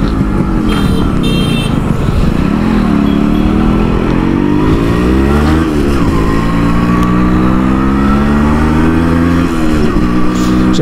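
A Yamaha RX 100 two-stroke motorcycle is ridden hard, its engine loud and close as it revs up and down through rising and falling pitch sweeps, with no talk over it.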